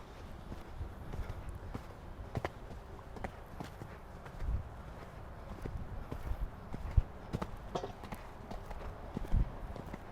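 Horse hooves thudding on an arena surface during show jumping training, a faint irregular rhythm of soft footfalls with occasional sharper knocks, heard at a distance under low background noise.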